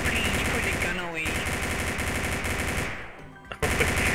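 Rapid automatic gunfire from a video game rattles almost without pause across the clip, loud and close, with a short lull near the end before the shooting resumes.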